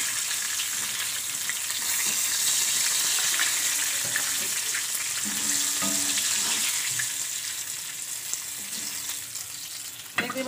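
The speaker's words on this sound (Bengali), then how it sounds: "মাছটাকে উল্টে দিলাম, আর এক পিঠ মাছটা ভাজা করে নেবো।" Tilapia fish frying in oil, after being flipped to cook the second side, makes a steady close sizzle with occasional utensil clatter, easing off slightly toward the end.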